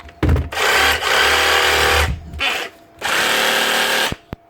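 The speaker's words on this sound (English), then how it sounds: "Right, Makita reciprocating saw." An older brushed Makita reciprocating saw, in for repair with a jammed tool holder, runs in three loud, close bursts of buzzing motor whine separated by brief pauses, then a short final blip.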